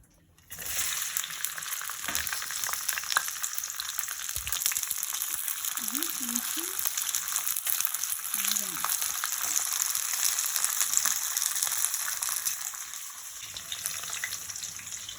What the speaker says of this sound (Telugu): మనం దొండకాయలు ఆయిల్లోని ఇలా బాగా ఫ్రై చేసుకున్నాము